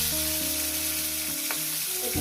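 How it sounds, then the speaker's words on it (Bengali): Bhetki fish pieces fry in hot oil in a pan, giving a continuous soft sizzle with light spattering crackles, close and fairly quiet. "একটু ঢাকনা চাপা দিয়ে দেবো, খুবই চিটকাচ্ছে।"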